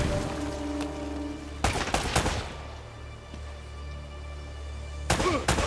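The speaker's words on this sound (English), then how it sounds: "Bro, you need to calm down with the grenades here." Grenade blasts in an Uncharted game, heard as two heavy broadband bursts, one early and one near the end, over a constant low droning game background.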